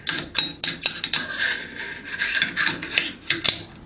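AR-15 charging handle sliding along the upper receiver and dropping into place, a close run of light metallic scrapes, rasps and small clicks with no talking.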